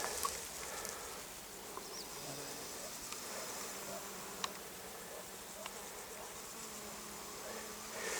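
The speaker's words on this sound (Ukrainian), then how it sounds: "Я вже не дивуюсь бджолам на романцвіті." Bees foraging on chamomile flowers outdoors, a continuous close buzzing hum that lasts throughout with occasional faint clicks and a distant bird.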